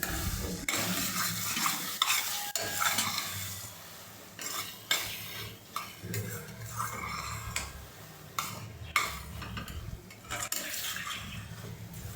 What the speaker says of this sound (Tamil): இந்த ஸ்டேஜில் கைவிடாமல் கிளறிக்கிட்டே இருக்கணும்.